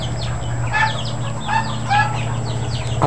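Chickens cluck in short bursts inside a chicken house, several calls close by over a steady low hum, with a brief rustle at the end.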